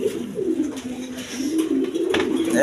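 A pigeon coos in a low, rolling rumble, heard up close at a pigeon farm, with faint background noise and scattered clatter.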